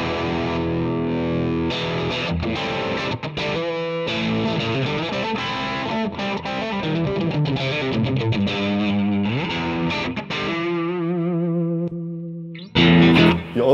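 A guitar plays through the dirty, heavily distorted rhythm channel of a Mesa Boogie Recto Verb 25 amp: chugging chords and riffs with choppy stops, ending in a short pause and one final burst.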